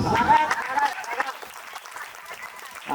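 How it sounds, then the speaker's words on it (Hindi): An audience at a Chhattisgarhi comedy poetry show claps in a scattered, fairly soft burst that follows a performer's voice and trails off, with talk resuming at the end. "थोड़ा ताली बजा दो"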